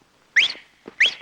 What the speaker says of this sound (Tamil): என்ன இனிமையான விசில்